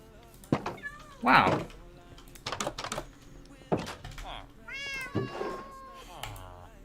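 Cats in the Minecraft video game meowing several times in short bursts, mixed with clicks and thunks like keyboard typing, while a voice talks intermittently.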